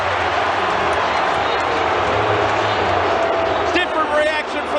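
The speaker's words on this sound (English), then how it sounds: "Different reaction from the crowd." Stadium crowd at a 2023 State of Origin rugby league match between Queensland and New South Wales, a loud sustained roar of thousands filling the space, with commentators talking over it.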